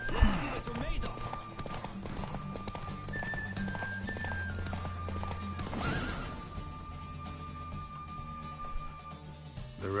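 A horse neighs and its hooves clatter in a galloping rhythm during a race in The Witcher 3 video game, with game music and a voice underneath.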